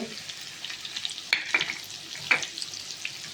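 Vegetables frying with turmeric in a pan: a low steady sizzle broken by a few sharp clinks and scrapes of a spatula being stirred through, close and clear with no talking.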